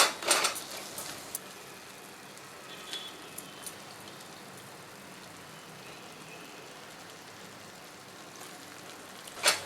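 Prawns sautéing in a pan with tomatoes and masala for prawn biryani, a steady soft sizzle with occasional utensil clinks and scrapes near the start and end, no talking.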